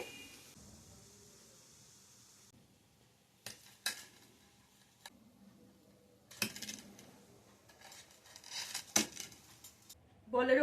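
Fried potato-egg balls being lifted out of hot oil in a home kitchen: faint scattered clinks and scrapes of a metal utensil against the pan, a few sharper knocks, and very quiet frying noise underneath.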